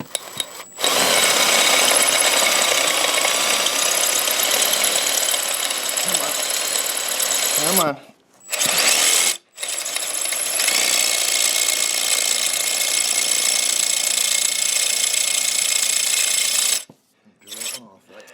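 A power drill with a left-hand bit whines steadily at close range during a Honda Elsinore MR50 restoration, running in long bursts with short stops between them, and a voice speaks briefly.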